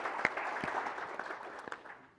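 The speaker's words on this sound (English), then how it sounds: "just want to give a round of applause for Tristan and the team at Carrier" A small audience at a corporate product presentation applauds, fairly faint, scattered clapping with a few sharper individual claps standing out.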